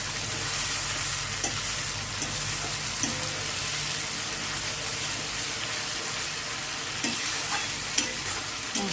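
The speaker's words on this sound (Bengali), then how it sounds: "মশলাটি ভালোভাবে ভেজে নেওয়া হচ্ছে।" Meat masala spice paste, ground spice mixed with water, frying and being stirred in a pan, giving a steady close sizzle with periodic scraping strokes of the spoon and no voices.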